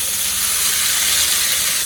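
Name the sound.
cornbread batter sizzling in hot oil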